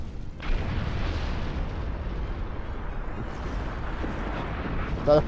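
A battleship exploding in Star Trek Online, a sustained heavy rumbling blast that starts abruptly and roars loudly for several seconds.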